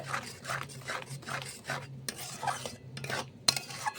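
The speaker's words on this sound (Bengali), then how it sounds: "আর এইভাবে নাড়তে থাকতে হবে" Mashed bean bharta stirred in a pan, rhythmic scraping strokes about twice a second with a light sizzle, close and alone.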